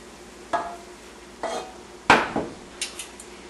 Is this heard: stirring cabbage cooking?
yes